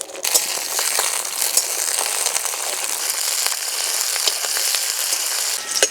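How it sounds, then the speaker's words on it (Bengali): Green chilies frying in a little mustard oil, a loud dense crackling sizzle that runs continuously for several seconds, broken by occasional stirring scrapes. "নাড়াচাড়া করে একটু ভেজে নিলাম।"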